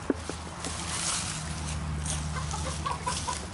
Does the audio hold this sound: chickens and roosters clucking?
yes